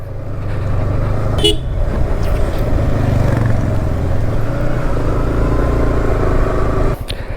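A vehicle engine drones steadily and loud through a short ride, with road noise, a few brief horn-like toots and passing traffic around it.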